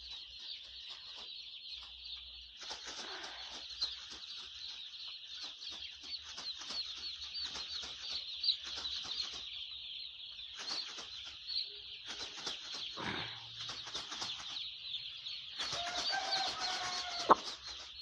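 Chickens cluck and chirp steadily in a poultry shed heated by bulbs in winter, a dense chorus of many birds with occasional wing flaps, moderately near.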